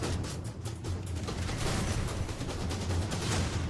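Continuous rapid gunfire from an online video game shooting match, dense overlapping bursts sounding loud and close with no pauses throughout.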